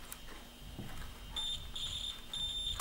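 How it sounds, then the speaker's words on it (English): A continuity meter touched to connected wires gives short, high-pitched electronic buzzes in three brief bursts, fairly faint over a low background hiss. "just get your continuity meter and hopefully you can hear this buzz."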